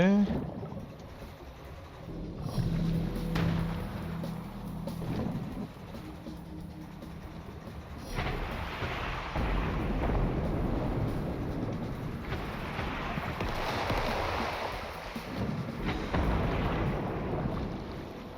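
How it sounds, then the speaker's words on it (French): Storm at sea in SteamWorld Heist 2, with rushing wind and churning water noise swelling and ebbing, plus low rumbling; it builds louder in the second half. "Tempête, ok."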